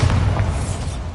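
A heavy booming blast from the Bombarda explosion spell in Hogwarts Legacy, one deep low rumble lasting about a second, loud and close.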